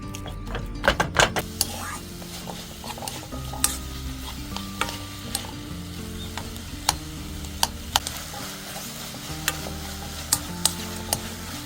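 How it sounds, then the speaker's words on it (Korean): Tofu and chunks of garlic stir-fried in a pan, with a soft steady sizzle, repeated sharp clicks of a utensil against the pan and low background hum throughout. "이 두부를 살짝 볶다가 된장을 넣을 거예요."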